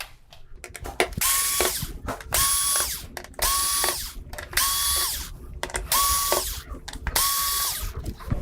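A power screwdriver removes screws from the main board of a Samsung UN46D6000SF TV, six short whirring bursts in a steady rhythm, close and clear, with brief pauses between each screw.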